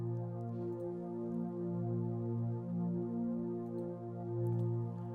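An analog pad patch from the Purity plugin in FL Studio, a sustained warm chord with rich low harmonics that swells and recedes gently, alone without any voice.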